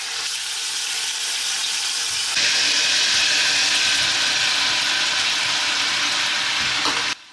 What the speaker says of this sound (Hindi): चिकन भी मुझे लग रहा है कि सीधा घी में रोस्ट हो रहा है ना